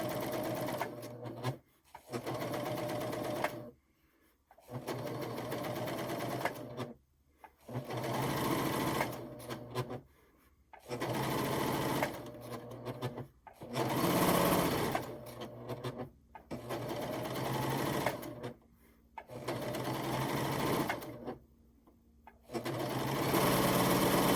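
A PFAFF admire air 7000 serger with a corded wavy foot runs in rapid, steady stitching bursts, stopping and starting about a dozen times with brief pauses between, close and fairly loud.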